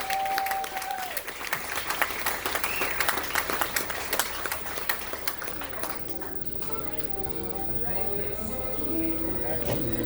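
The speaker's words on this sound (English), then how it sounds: "Let's give our panel a big round of applause." Lively applause for a panel after a cast Q&A, dense crisp clapping that fills the first half and then thins into scattered claps while people talk and murmur in the room.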